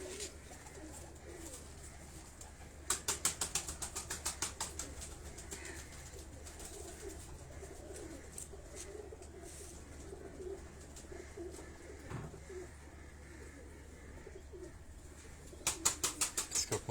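Domestic pigeons coo in a low, steady murmur. Two bursts of rapid wing flapping come early and again at the end, with no talk.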